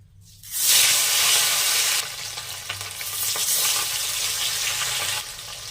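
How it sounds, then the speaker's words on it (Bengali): Bhola fish pieces dropped into hot mustard oil in a wok, a loud sizzle bursting up at once, then settling into a steady close hiss and crackle. "কড়ার মধ্যে সর্ষের তেল দিয়ে দিয়েছি এবার তেলটা ভালোভাবে গরম করে নিয়েছি এবার মাছগুলোর মধ্যে ভেজে নেবো লাল লাল করে ভেজে"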